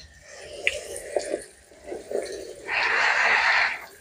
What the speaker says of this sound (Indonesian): Oke, kita siram kucur semuanya ya teman-teman